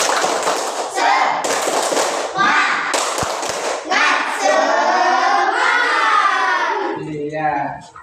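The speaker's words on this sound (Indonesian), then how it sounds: "Tepuk semangat" A classroom of standing students performs a rhythmic spirit clap: quick bursts of hand claps and thumps for a few seconds, then children chanting together loudly, fairly close.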